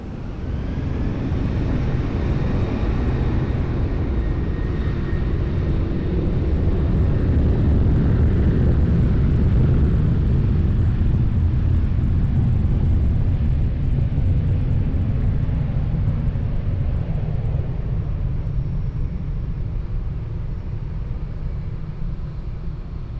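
A Luxair airliner takes off from runway 20 at Lisbon Airport, a steady, broad low rumble of jet engines that swells in the middle and slowly eases, heard at a distance with no voices.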